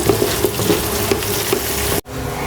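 Ginger, garlic and cumin paste sizzles in hot oil as it is stir-fried for khichuri, a steady close frying hiss with light stirring taps, cut off abruptly near the end.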